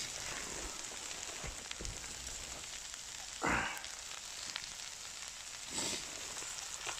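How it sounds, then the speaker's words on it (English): A stir fry crackles and sizzles in a hot pan, a faint steady hiss with scattered pops and a couple of louder bursts of spitting. "Stir fry time."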